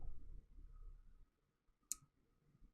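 A single faint, sharp mouse click on a send button in a quiet room.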